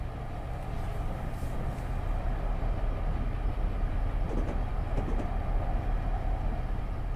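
An SD50 diesel freight locomotive cruising at speed in Train Simulator 2020, a steady droning engine rumble with rolling wheel noise and faint clicking of rails, constant and unbroken.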